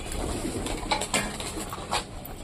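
Pet pigeons in a backyard loft coo softly at close range, a few low murmuring calls rising over steady background hiss, with no talking.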